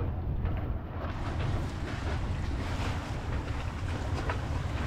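A sailboat under way on a close reach on a clear day, heading out from Boot Key in Marathon toward Miami: constant rushing wind and water noise fills the whole stretch, steady and fairly loud, with no talk.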